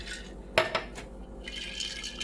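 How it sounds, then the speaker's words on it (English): Patriotic punch poured from a jug into another container, with a sharp clink of the vessels near the start followed by a soft, steady splashing of liquid. "So I'm gonna pour half of this in here"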